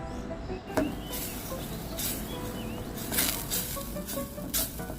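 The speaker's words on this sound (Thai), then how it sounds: "จะเคี่ยวกะทิสักพักหนึ่งนะคะ เพื่อให้มันเดือดแตกมันนะคะ" Coconut cream for a Thai beef panang curry simmers in a pot, a soft bubbling sizzle with faint crackles and a few small clinks, quiet and steady throughout.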